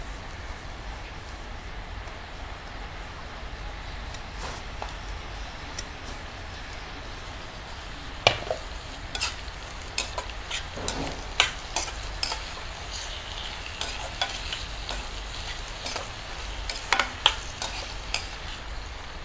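Tomatoes and onions fry in a pan with a soft, continuous sizzle, punctuated by scattered clicks and taps of a spoon stirring against the pan, quiet and with no talking.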